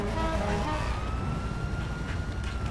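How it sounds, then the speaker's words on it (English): A police car siren in the video game GTA 5 Online wails with a rising tone over engine and street noise, loud and continuous through the short stretch, with no talk. "Someone's got a police car."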